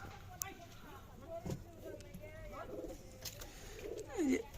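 Rajshahi Giribaz pigeons coo softly in a loft, a low, throaty murmur with a few rolling calls rising and falling, and faint rustling and shuffling nearby.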